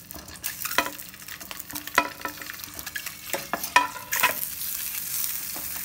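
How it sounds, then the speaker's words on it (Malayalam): Whole boiled eggs frying in a pan of hot oil for egg biryani: a steady crackling sizzle with sharp spatters and scraping stirs, close and fairly loud, with no voices. "ഈ മുഴുവനോട് വെച്ചിട്ടുള്ള മുട്ട അതിലിട്ട് കൊടുത്തൊന്ന് ചെറുതായിട്ടൊന്ന് ഫ്രൈ ചെയ്തെടുക്കാം."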